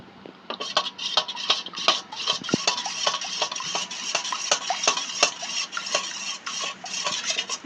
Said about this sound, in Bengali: এর মধ্যে একটু জল দিয়ে ভালো করে মিশিয়ে নেব উপকরণগুলো ভালো করে আমরা মিশিয়ে নেব এরকমভাবে